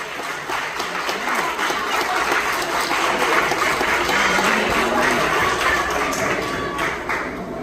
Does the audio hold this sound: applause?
yes